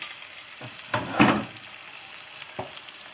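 Wild mushrooms, including porcini and birch boletes, fry in a pan for scrambled eggs, with a faint sizzle under a few soft clatters and one louder stirring scrape, close by and with no voices.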